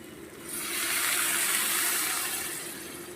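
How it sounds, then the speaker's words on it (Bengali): Water pours into a pan of prawns, radish greens and potatoes. A close, steady rushing splash swells over a few seconds and then tapers off slightly. "এই পর্যায়ে আমি দিয়ে দেব পরিমাণ মতন জল"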